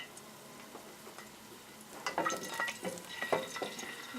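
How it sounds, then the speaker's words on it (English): Chili sizzling and frying in a pan as it heats, a soft crackling bed that grows louder and busier partway through, with scattered bursts of spitting and faint stirring scrapes. "you can hear the pan getting hotter with the chili"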